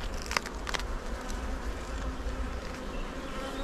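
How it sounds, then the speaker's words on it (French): A dense, continuous drone of many honeybees buzzing up close on a hive frame, steady and loud with a few brief crackles early on. "Il y a tellement d'abeilles sur le cadre"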